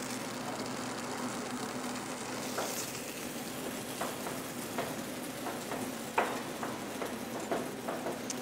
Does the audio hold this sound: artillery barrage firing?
no